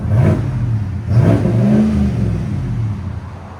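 A 2023 GMC Yukon Denali's 6.2L V8 with a Flowmaster Flow FX cat-back exhaust, revved loudly twice in quick succession, then settling into a deep, rumbling idle.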